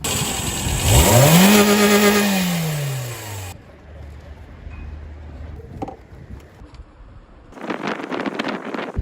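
Car engine fitted with a new performance air filter, revving up and falling back through a loud rising-and-falling whine, then settling to a low idle before another rough burst near the end.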